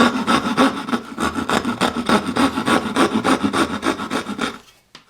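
Hand saw finishing a cut through skirting board, a steady run of rhythmic back-and-forth rasping strokes, close and loud, ending abruptly as the cut completes.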